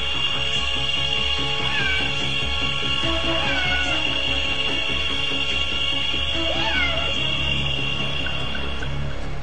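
A cat meows several times over steady outdoor background noise and a continuous insect-like drone, with faint activity throughout; the meows are moderate and intermittent rather than loud or close.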